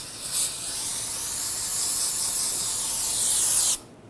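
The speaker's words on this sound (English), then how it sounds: "Using a little brake parts cleaner, you can clean up this area where the brake fluid is." Brake parts cleaner sprays onto the front brake caliper area of a 2009–2017 Volkswagen Tiguan in a close, steady aerosol hiss lasting about three and a half seconds before stopping abruptly.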